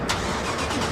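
Modified 600 HP Toyota Camry with an aftermarket exhaust firing up, a loud, close burst of engine and exhaust noise lasting under a second.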